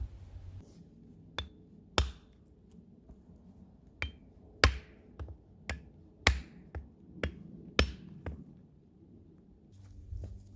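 Sharp, ringing hammer strikes on steel feathers and wedges set in a drilled stone, about a dozen irregularly spaced blows, close and crisp against a quiet outdoor background.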